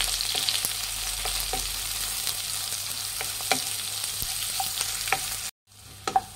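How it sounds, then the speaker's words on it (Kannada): Two sliced onions frying with garlic in a pan for garlic rice, a steady soft sizzle with occasional light clicks of stirring, brief drop out near the end, no talking. "ನೋಡಿ, ಉದ್ದುದ್ದಾಗ ಹಚ್ಚಿಟ್ಕೊಂಡಿರೋ 2 ಈರುಳ್ಳಿ ಹಾಕ್ಕೊತಾ ಇದ್ದೀನಿ,"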